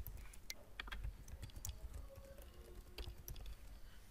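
Login credentials are typed quickly on a computer keyboard, a steady run of soft, close key taps and clacks that continues throughout at a low level.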